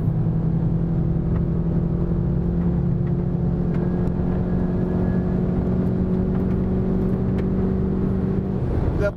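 Volkswagen Jetta GLI sedan lapping the Interlagos circuit, its engine droning steadily and loud throughout with a constant whirring tone, no talk over it.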